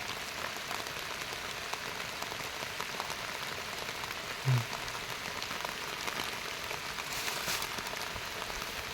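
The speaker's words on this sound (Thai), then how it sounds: "ฝนมันตก" Steady rain falling, a dense even hiss of drops throughout, with one brief low thump partway through.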